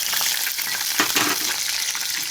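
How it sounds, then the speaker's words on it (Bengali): Eggs dropped into hot oil with nigella seeds and slit green chillies, a bright continuous hiss that flares briefly midway as they hit the pan, close and fairly loud, with no voices. "এই ডিমগুলো আমি তেলে দিয়ে দিলাম"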